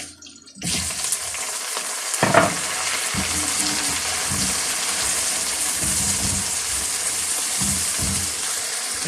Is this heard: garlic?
yes